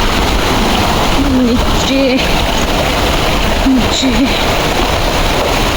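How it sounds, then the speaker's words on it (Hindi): Rushing mountain stream below a hillside road, a loud, steady broadband roar of water that fills the whole clip, with people talking briefly over it. "पानी की कितनी आवाज़ है ना कितनी बड़ी है।"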